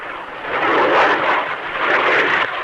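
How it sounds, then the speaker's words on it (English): A jet plane dives steeply downward, its loud broad roar swelling, dipping briefly and surging again across a few seconds. "Boy, look at that plane come down."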